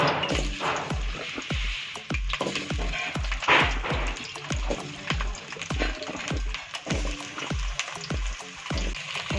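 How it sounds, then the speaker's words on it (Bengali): Local deshi potatoes fry in oil in a pan, seasoned with salt and turmeric, giving a steady close sizzle beneath a regular, repeating beat of low thumps. "লবণ দিলাম এই দেশি আলুটা ভাজি না তেল"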